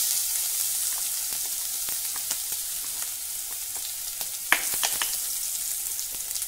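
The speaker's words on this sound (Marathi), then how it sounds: "तेल गरम झालं की त्यामध्ये मोहरी घालूया, जिऱ्याचे दाणे, आलं आणि हिरवी मिरचीची पेस्ट घालणार आहे।" Mustard seeds, cumin, ginger and green chilli paste frying in hot oil, a steady sizzle with scattered sharp pops and crackles, close and alone without talk.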